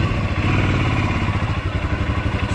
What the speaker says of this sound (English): And now just ride the bike for 2 to 3 meters.